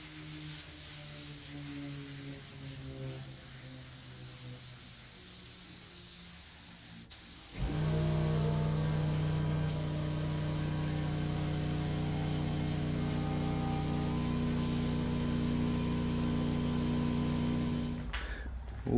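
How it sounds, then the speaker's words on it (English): Spray gun applying clear coat to the bumper of a Tesla Model 3 finished in three-stage pearl white, a loud steady airy hiss starting partway in after quieter noise and cutting off near the end. "And then we clear coat."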